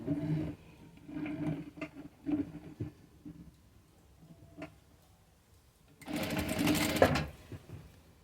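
A sewing machine stitches the side seam of a floral blouse: soft intermittent handling sounds first, then a loud, close burst of rapid mechanical stitching for about a second near the end, with no talking.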